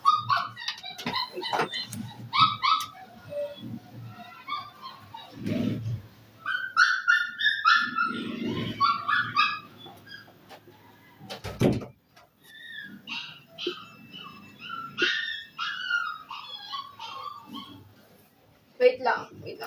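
A dog barks in short bursts and whimpers and yips between them, close by and loud at times, with gaps of quiet and some background talk.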